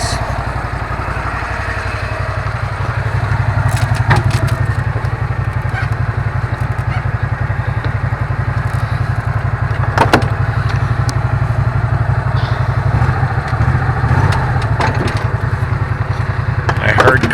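Truck engine idling and rumbling while backing slowly up to a trailer, a steady close diesel-like drone with occasional clunks and clatter, and a person talking over it.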